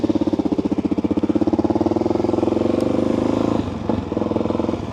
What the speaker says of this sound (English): today we're going to be cruising around on the DRZ through Port Melbourne and St Kilda